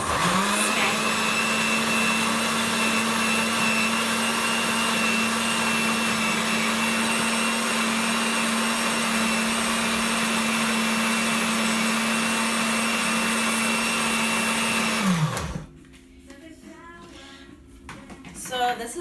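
A kitchen blender runs steadily with a loud, continuous motor whir as it blends oats and apple into a smoothie, then cuts out abruptly near the end, leaving a quiet room.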